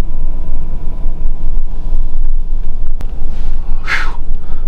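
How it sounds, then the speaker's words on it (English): Strong May wind whipping across open Wyoming country and buffeting the microphone in a steady loud roar with gusty swells, heard alone. "Wind's whipping."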